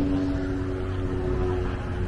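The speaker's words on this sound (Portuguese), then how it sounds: "Avião aqui, o helicóptero." A helicopter flies overhead, giving a loud, steady drone with a constant hum that holds level throughout, with no voices.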